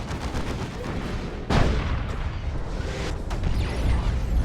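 Eldar Fire Prism tank firing shots in a Warhammer 40k Dawn of War 2 3v3 battle, a loud booming blast among continuous dense battle noise of gunfire and explosions.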